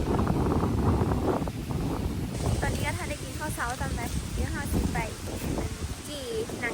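Strong wind blows across an open rice field outdoors, a steady loud rush buffeting the microphone throughout, with a person speaking over it.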